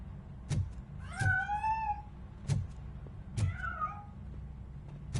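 A cat in the Robocop Rogue City game meows twice with rising, drawn-out cries, set between soft dull thumps over a quiet low hum.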